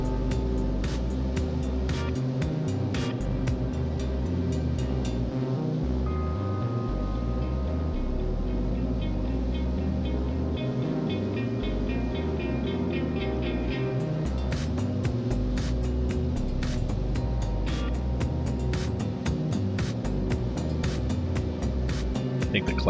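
Piper Archer III propeller engine in X-Plane 11 flight simulator, a steady loud low drone with throbbing harmonics running continuously, with faint clicks over it.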